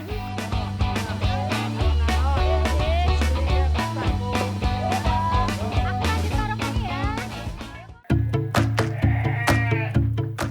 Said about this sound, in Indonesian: Di tempat ini ada sekitar 350 ekor kambing.